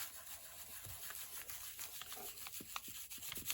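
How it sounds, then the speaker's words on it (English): Paper is rubbed by hand over a gelli plate print with acrylic paint, making a faint, soft scraping rustle with a few short strokes standing out near the end, heard alone. "only rub it on a partial section and not rub it all"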